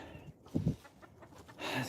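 A brief, fairly faint clucking from a rooster, two short bursts followed by a rising rustle, with no talking.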